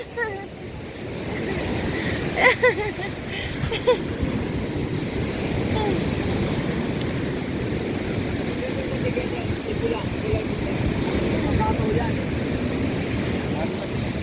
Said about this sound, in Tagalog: Ayan na, alon!